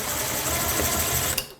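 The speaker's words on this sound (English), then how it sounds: "So I can set my drill bit on my drill," Power drill whirring steadily as it bores a hole for a door hinge, a continuous close motor drone that cuts off abruptly.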